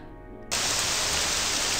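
Rain falls in the video game Morrowind, a steady even hiss that switches on abruptly and continues without a break, fairly quiet and with no voices over it.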